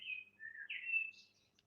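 A single bird chirps clearly in a quick run of high, sliding tweets, close and alone against near silence.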